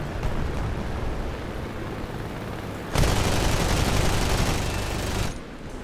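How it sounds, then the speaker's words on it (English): A M.S.406 fighter's 20 mm cannon fires in War Thunder as a dense, continuous roar of rapid shots. The burst swells louder partway through and then cuts off, with steady engine noise underneath and no talk. "So I'll start hitting him with 20 mils."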